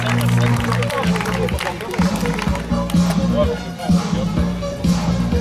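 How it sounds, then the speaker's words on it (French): Velodrome crowd applauding a cyclist at an evening track event, steady clapping and crowd noise throughout, heard under a loud announcer's voice speaking in French. "Mesdames, messieurs, vos applaudissements pour Anthony Jacques"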